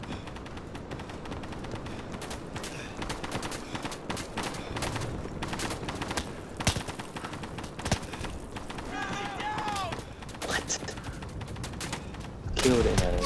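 Gunfire in the World War II shooter Day of Infamy during a beach landing, rapid bursts and single shots crackling over a dense battle din, with a voice briefly audible near the end.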